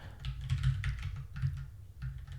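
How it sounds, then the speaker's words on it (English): Someone types steadily on a computer keyboard, making close, rapid clusters of key clicks and thumps with brief pauses between bursts. "So let's type this here."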